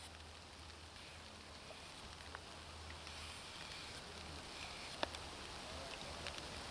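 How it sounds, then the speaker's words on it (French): Rain falls as a faint, steady hiss on surfaces, with an occasional sharper drop standing out from the even wash of sound. "Oh, il pleut!"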